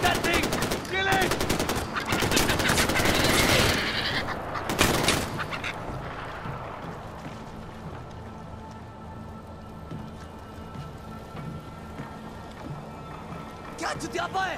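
Gunfire aimed at a burning honey badger in the Far Cry 4 video game, with rapid shots crowding the first five seconds under excited talk, then a quieter rainy, ambient wash.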